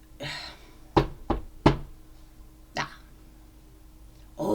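Sharp knocks on a door: a quick cluster of three raps followed by a single knock a moment later, fairly close in an otherwise quiet room.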